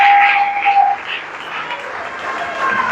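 A church congregation at a Portuguese-language sermon breaks into applause, a loud burst of clapping and crowd noise that eases off and then swells again over the three seconds.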